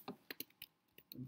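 Quick, close keystrokes tap out a short run on a computer keyboard, a few crisp clicks in an uneven rhythm followed by a brief burst of background noise.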